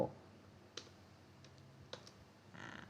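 Typing on a computer keyboard during a stock-charting lesson: a handful of separate faint, crisp key clicks spaced apart over quiet room tone, then a brief cluster of soft taps at the end.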